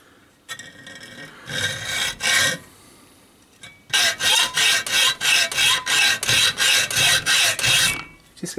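A motor lamination held in a vise is cut with a hand saw: a short bout of strokes, a pause, then a steady run of about a dozen rhythmic rasping strokes, close and clear.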